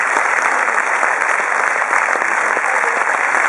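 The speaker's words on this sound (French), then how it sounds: "que je vous demande d'applaudir" An audience bursts into loud, dense applause, a steady wash of many hands clapping that lasts throughout without letting up.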